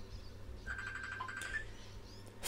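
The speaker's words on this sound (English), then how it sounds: "Phone!" Faint electronic phone ring, a short run of repeated pulsing tones at middling pitch, quiet and brief over a low background.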